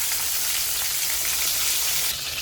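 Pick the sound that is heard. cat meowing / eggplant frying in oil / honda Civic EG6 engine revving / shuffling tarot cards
eggplant frying in oil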